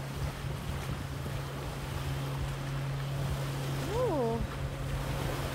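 Water sloshing against a kayak on a lake, rocked by wakes from passing boats, under constant wind buffeting and a low steady boat-engine hum, with one brief voiced exclamation partway through.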